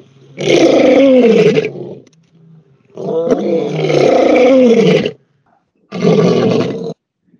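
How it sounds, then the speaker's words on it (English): An adult lion roars loudly and close, three long, powerful roars separated by brief pauses, with no talking. "an adult lion's roar can be heard up to 5 miles away"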